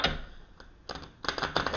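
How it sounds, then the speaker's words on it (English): Quick, crisp riffling clatters of tarot cards being shuffled, two short bursts close by with no voices. "I'll shuffle these cards."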